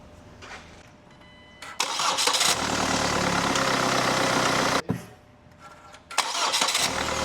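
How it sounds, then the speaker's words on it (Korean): A Kia Carnival engine is cranked by its starter motor. After a short whir it catches and runs at a loud, steady idle, is switched off, and then is started again. "이렇게 시동 모터가 작동하는 원리야"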